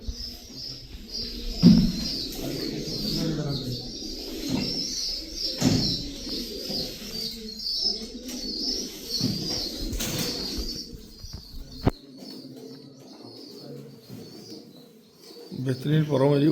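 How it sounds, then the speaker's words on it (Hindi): Pigeons coo steadily in a breeder's loft, with wing flaps and bird calls scattered throughout, while someone talks over them for most of the time. "बेहतरीन परों में जी उड़ने वाले कबूतर हैं।"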